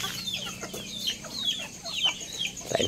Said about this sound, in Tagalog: Mga manok natin, ayan, nakakulong pa dyan.